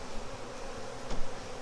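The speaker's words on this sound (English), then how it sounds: "There's a lot of bees right here" Honey bees buzzing around a disturbed, aggressive hive during a hive split, a dense close swarm drone holding steady with a brief swell near the end, no talking.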